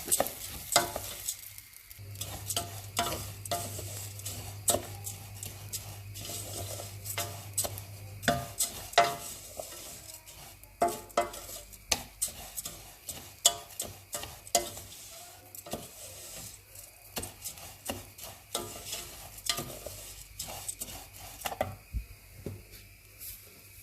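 Rice frying in a pot for Lebanese rice is stirred steadily, with a long run of quick, sharp spoon clicks and scrapes against the pot over a soft sizzle, close and fairly busy throughout.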